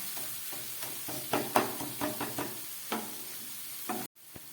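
Spice paste sautés gently in a pan over a low gas flame, a soft continuous sizzle broken by a series of spatula scrapes and stirs, ending in an abrupt cut.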